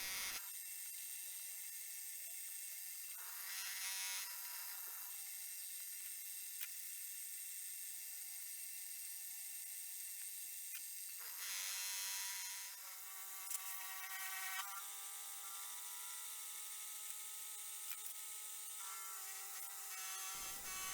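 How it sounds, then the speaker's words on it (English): A milling machine hums and whines continuously while drilling corners and milling a 3mm-deep pocket for a sat nav mount. The tone shifts several times as the cutter works, with faint scraping under a steady mechanical drone. "I want the pocket to be 3mm deep, so first of all I'm drilling each of the corners, and then I'll mill out from there."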